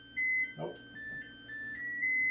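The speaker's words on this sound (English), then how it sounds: "That noise you hear in the background is my oven preheating to 375" An oven beeping as it preheats to 375 degrees in a home kitchen, with steady high-pitched electronic tones running through the clip at moderate level while a person speaks briefly nearby.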